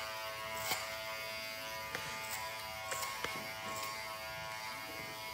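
A limited-edition gold Andis Cordless Master hair clipper buzzes steadily up close, a constant electric hum with faint clicks and bumps as it is handled, and no talking.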